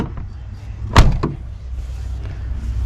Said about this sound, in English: Doors closed pretty good.